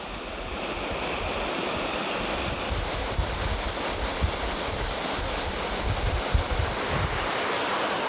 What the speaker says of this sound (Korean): 이 물소리만 다 들어도 뭐 진짜 이런 곳에 낚시하고 있는 제가 행복합니다